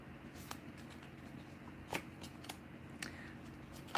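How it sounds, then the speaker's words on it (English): A deck of tarot cards being shuffled, soft riffling with a few sharper card snaps spaced across the stretch, close but quiet over a steady background hum. "And now that I'm done shuffling"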